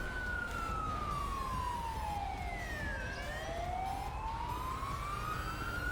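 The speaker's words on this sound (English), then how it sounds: "get these damn sirens off and out the way for this bloke" Police car sirens wail continuously in GTA 5 with the LSPDFR mod on an Australian Victoria Police patrol, two overlapping tones sweeping down and back up, loud and close over steady road noise.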